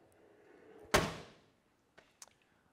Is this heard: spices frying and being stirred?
no